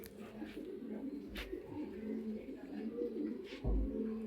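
Racing pigeons coo in low repeated murmurs, a steady soft chorus close by, with a few louder bumps and some background voice now and then.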